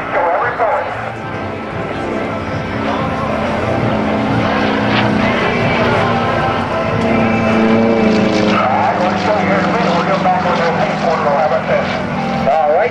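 An aerobatic propeller airplane drones through a four-point roll at a naval air station airshow, its engine note shifting in pitch under loud announcer commentary.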